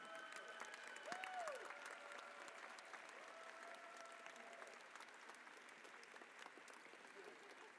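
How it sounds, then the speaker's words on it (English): Steady applause from a large audience at a FIRST robotics championship fills the whole clip at an even level, with a brief whistle-like tone early on. "Let's thank them with a loud round of applause for all their hard work on your behalf."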